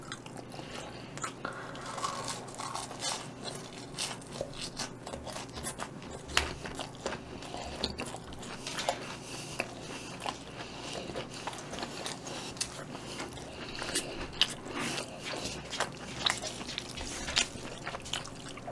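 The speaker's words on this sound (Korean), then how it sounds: "살면서 이렇게 뜨거운 치즈 스틱 처음 먹어봐요 자 이번엔 케찹에다가 이렇게" Biting and chewing a hot cheese stick dipped in ketchup: repeated close, crisp crunches and wet, sticky mouth sounds in an irregular rhythm, loud and steady throughout with no talking.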